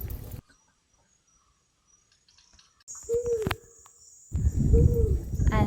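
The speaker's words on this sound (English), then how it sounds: "these noises here is a recording of the cuckoo. It's played on a loop to encourage them to come back." A looped recording of a cuckoo call plays in a Borneo rainforest, giving repeated hooting tones over a hiss of insects, with a quiet gap before the calls return loud and close.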